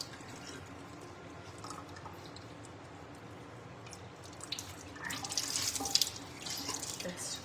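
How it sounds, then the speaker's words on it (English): Tap water runs into a sink as something is rinsed, a soft, steady trickle that grows louder and splashier near the end, heard up close with no one talking. "Just rinsing this out"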